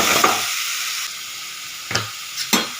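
Spiced chickpea sundal frying in a pan with turmeric, a steady sizzle with a few scraping stirs of the spoon near the end, close and fairly loud.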